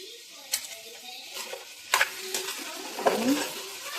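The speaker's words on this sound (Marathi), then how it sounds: "छान मिक्स करून घेऊया।" Ivy gourd (tondli) vegetable dish with coriander being stirred in a pan, with a few distinct scraping strokes over a faint sizzle, close and fairly quiet.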